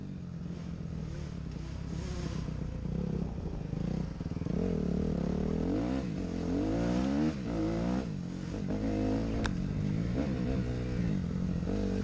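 Yamaha YZ125 and Suzuki RMZ250 dirt bikes rev hard on a muddy forest trail, engines droning loud and continuous with rising and falling throttle sweeps and some clatter, no voices.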